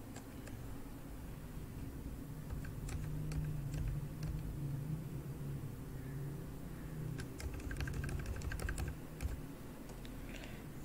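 Clicky keystrokes on a computer keyboard while working in Microsoft Word, including Shift and minus presses, come in scattered bursts and quick runs over a steady background hum.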